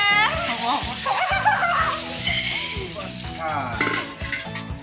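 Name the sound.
fish frying in a pan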